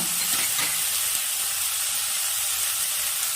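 Ground spices, onion paste and ginger paste frying in a pan, a dense continuous sizzle and hiss with faint stirring scrapes, loud and steady throughout.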